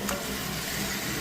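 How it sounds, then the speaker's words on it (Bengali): Marinated mutton goes into hot spiced oil in a pan and sizzles steadily, a soft continuous frying hiss heard close up with no voices. "এবার আমি দিয়ে দেবো ম্যারিনেট করা মাটনটা।"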